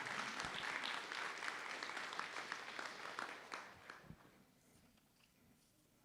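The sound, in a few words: applause for FFA students and staff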